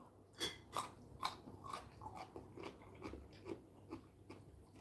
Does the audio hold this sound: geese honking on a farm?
no